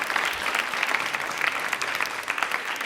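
A quiz-show audience applauds contestant Simran with dense, continuous clapping that holds steady and fairly loud throughout.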